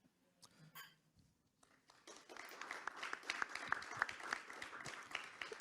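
Audience applause rises from the floor of a maritime museums session at an ocean summit, starting as a few scattered claps and swelling into steady, moderately distant clapping from a crowd.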